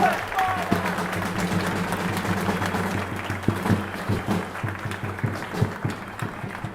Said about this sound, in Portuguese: uma salva de palmas para o nosso querido Apolo